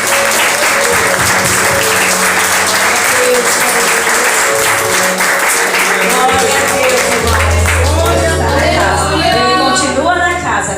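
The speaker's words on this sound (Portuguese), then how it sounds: "As palmas louvam ao Senhor." Congregation at an evangelical church service applauding in praise, loud sustained clapping from a packed room, joined partway through by a low sustained organ or keyboard and rising singing voices.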